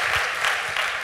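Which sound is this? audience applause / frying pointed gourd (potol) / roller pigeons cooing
audience applause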